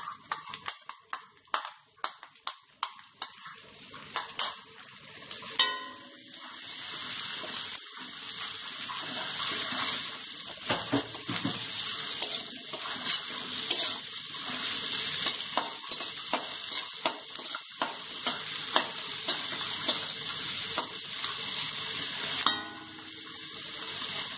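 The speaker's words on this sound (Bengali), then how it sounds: "দেওয়ার পর আমি পেঁয়াজের কিমাগুলো এতে দিয়ে দিলাম।" Minced onions sizzle and fry in a pan for an egg tadka, with steady crackling broken by repeated scraping strokes of a spoon stirring them, close and fairly loud throughout.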